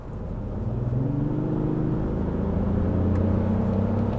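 A Lexus GX 550 V8 engine builds from a low steady drone into a rising whir as it accelerates moderately, heard from inside the cabin, with no talk.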